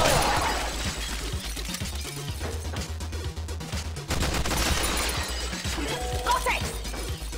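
Rapid gunfire from Resident Evil 7: Not A Hero rattles in dense bursts, with shattering and crashing hits over a loud, busy game mix.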